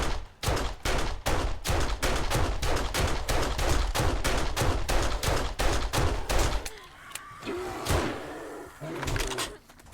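Shots fired at a bear in the video game 7 Days to Die: loud, rapid automatic gunfire in an even rhythm for about seven seconds, then it stops and only quieter scattered sounds remain.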